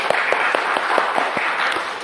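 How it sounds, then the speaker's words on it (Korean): A church congregation applauds during a Sunday service, a short steady wash of many hands with a few louder individual claps standing out. "주님께 영광의 박수를 돌리십시다"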